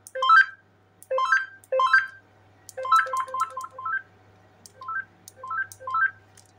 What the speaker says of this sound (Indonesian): Biasa orang-orang yang pakai Motorola biasanya menggunakan ringtone kayak gini guys ya